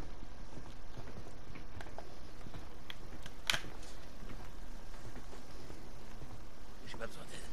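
Footsteps in the video game Days Gone, a soft run of irregular steps over a steady ambient bed, with one sharper click midway.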